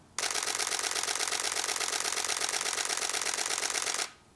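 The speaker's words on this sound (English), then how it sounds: "So in terms of that shutter sound," A Nikon F6 film camera's shutter fires in a rapid continuous burst, a dense steady mechanical rattle of repeated clicks lasting about four seconds before stopping abruptly, close and alone with no talk.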